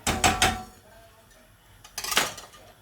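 A whisk scrapes and clatters against a pan holding milk for a lasagne sauce, in two short bursts of quick metallic strokes separated by a quieter pause.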